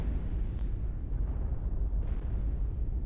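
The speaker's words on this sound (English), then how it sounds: "That's the actual explosion." Explosion in Castlevania 64: a steady, heavy low rumble lasting several seconds, with a couple of brief brighter bursts on top and no talk.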